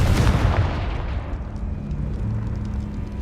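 A Confringo blast spell explodes in Hogwarts Legacy as one heavy, close boom that decays into a low rumble, with a soft sustained hum and faint game ambience underneath.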